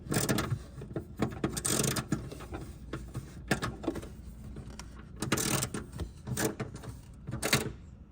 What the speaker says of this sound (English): turn it like this until I got it tight enough for the ratchet to catch